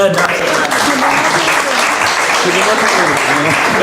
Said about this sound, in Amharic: በጣም ሞቅ ያለ ጭብጨባ